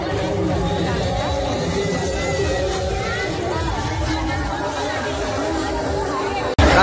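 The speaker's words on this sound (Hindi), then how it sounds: "संडे ना, इसलिए बहुत ज्यादा भीड़" Dense crowd chatter fills a busy Sunday at the Markanda fair (Markanda Mela 2024): a continuous, loud babble of many voices close around, with a sudden louder burst right at the end.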